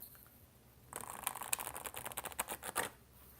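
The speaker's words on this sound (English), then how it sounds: "That's kind of how I shuffle it." A tarot deck is side shuffled by hand, a quick run of soft riffling card flicks and taps that starts after a brief quiet pause and carries on close and fairly faint.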